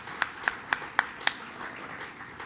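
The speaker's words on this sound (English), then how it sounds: "Please give them a big round of applause." Scattered claps from an audience greeting Mexico's Interior Secretary and his wife at a Cinco de Mayo celebration with President Obama, about five distinct sharp claps in an even rhythm, then fading into a faint room murmur.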